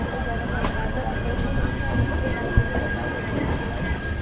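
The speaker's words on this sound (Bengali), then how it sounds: "শিপ্রা নদীর উপর থেকে আমার ট্রেনটা যাচ্ছে" A train crossing a bridge over the Shipra river on the way into Ujjain, a steady rumbling rail roar with a few brief clanks and knocks, heard close from on board.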